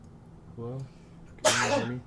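A person speaks a brief question, then a single loud, close sneeze bursts out near the end.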